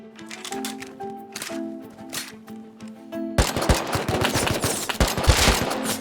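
Rapid automatic gunfire in the survival video game Rust, a dense burst of loud shots layered over music in the first half, then a louder, busier run of rattling fire to the end.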